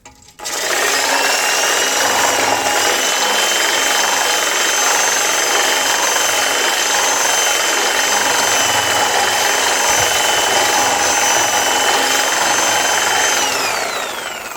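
A reciprocating saw fitted with an AliExpress attachment cuts through metal, a loud steady buzzing whine that runs almost without a break for about fourteen seconds before tapering off at the end.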